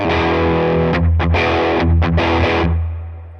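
Electric guitar played through a Frank Bros. Arcade pedal set for heavy distortion: loud, thick sustained chords with a few quick rhythmic breaks, ringing out alone before fading at the end.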